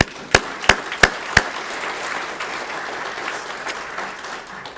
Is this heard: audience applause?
yes